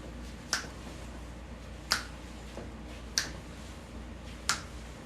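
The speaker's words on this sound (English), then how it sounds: "And she be snapping her finger." Fingers snap four times at an even, unhurried pace, each a sharp, crisp crack over a faint hum with nothing else going on.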